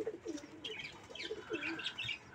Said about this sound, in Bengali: এই যে আমাদের সবগুলো কবুতর দেখান